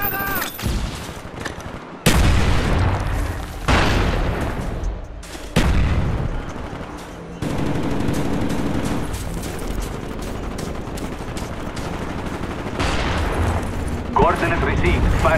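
Dense battlefield din from Call of Duty Black Ops multiplayer on PC, with artillery barrages and continuous gunfire overlapping in loud, sustained waves, punctuated by sharp cut-ins and heavy booms throughout, with game radio voice lines mixed in.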